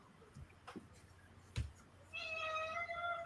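A house cat meows in a sustained, loud, tonal call near the end, preceded by a few soft thumps and faint room noise indoors.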